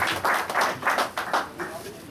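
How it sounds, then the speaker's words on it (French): Applause at an anniversary celebration of a community gathering in Indonesia, a burst of quick, uneven clapping that fades after about two seconds, close and moderately loud. "Applaudissez pour Fierre, s'il vous plaît."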